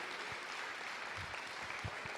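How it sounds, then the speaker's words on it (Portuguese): A church congregation applauds its cell group leaders, a dense, steady wash of clapping from many hands that fills the room evenly from start to finish, with no voices rising above it. "Dê mais uma forte salva de palmas para esses homens e mulheres de Deus."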